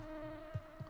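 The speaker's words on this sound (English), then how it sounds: "still hearing some bee noise." A bee buzzes in a video game, a faint steady drone with a couple of soft low thumps, no talking over it.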